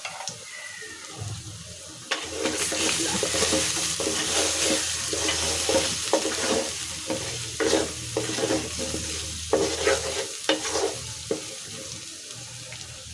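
Turmeric, chilli powder, coriander powder and salt lightly frying in a pan for a koi fish curry with bottle gourd leaves, a steady close sizzle broken by repeated scrapes and knocks of a stirring spatula.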